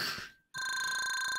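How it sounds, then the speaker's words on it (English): An old-school rotary telephone rings in the video game Together BnB. A short ring burst fades, a brief silence follows, then a loud sustained metallic bell tone, with no voices. "that's the worst ringtone I've ever heard"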